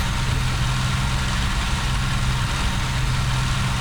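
A P-40C fighter's engine held at full RPM with the radiator open in the IL-2 flight simulator, a steady, loud low drone with a constant hum that does not change.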